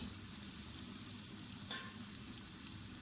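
Desi chicken pieces frying in a pan with turmeric and salt, a steady close dense sizzle with faint stirring, continuous throughout.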